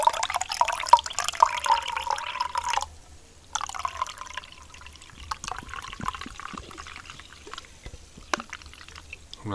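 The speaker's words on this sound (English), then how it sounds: "I'm not going to rob you guys of the satisfying pouring sound." Squirt grapefruit soda pours steadily into a glass of cold black coffee with a close, continuous liquid rush, then eases into softer fizzing and trickling with scattered drips.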